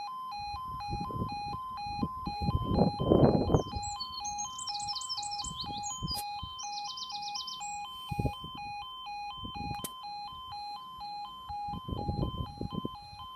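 Level crossing alarm at Barton Lane in Nottinghamshire, a repeating two-tone electronic warble sounding steadily from start to end, with rumbling wind or traffic noise underneath and a brief chirpy glitch partway through.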